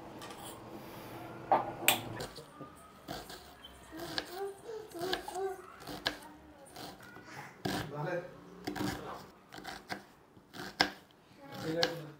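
Onions being chopped with a knife in a home kitchen, with irregular, sharp taps against a cutting board, some louder than others, while someone talks.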